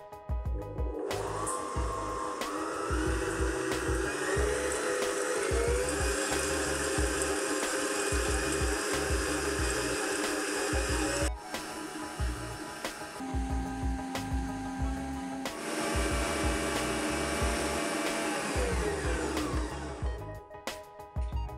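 Electric mixer beating sugar and eggs at medium speed for a steamed sponge cake batter: a close, steady motor whir with tonal hum that runs continuously, briefly dipping near the middle before resuming.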